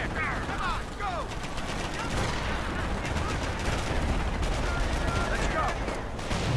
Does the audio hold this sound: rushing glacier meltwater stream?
no